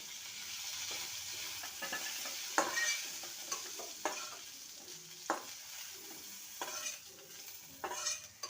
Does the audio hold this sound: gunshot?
no